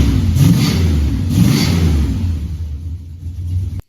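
A 1970 Dodge Charger engine rumbles and revs with a mild, stock-sounding exhaust note, steady and close, then cuts off abruptly at the end.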